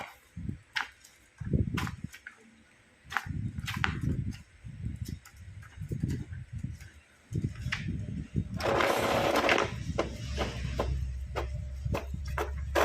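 An Epson L3110 inkjet printer with blinking red fault lights runs a print job, giving off irregular close clicks and short motor whirs, then a longer, louder rumbling feed near the end.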